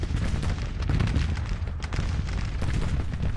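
Rumbling Civil War artillery fire in the Grand Tactician strategy game, dense overlapping booms from cannon batteries forming a steady loud roar of battle.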